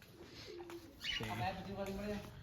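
Pigeons coo nearby over scattered grain, soft rolling calls rising and falling over a couple of seconds, with a voice briefly mixed in.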